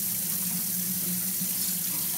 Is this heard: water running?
yes